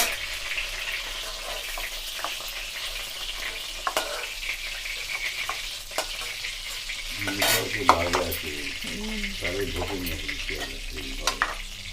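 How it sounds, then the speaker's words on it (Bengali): Egg-marinated chicken pieces shallow-frying in a pan for chili chicken, a steady close sizzle punctuated by utensil clicks and scrapes, with a voice talking over the frying toward the end. "বন্ধুরা ঠিক এইগুলো আমরা ঠিক হালকা করে ভেজে তুলে নিচ্ছি।"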